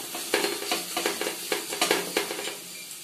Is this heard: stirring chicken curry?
yes